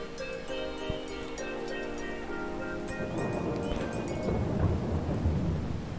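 Thunderstorm in Farming Simulator 22, with steady rain and rolling thunder building into a loud, dense rumble over the last half, a faint tonal game hum running underneath early on.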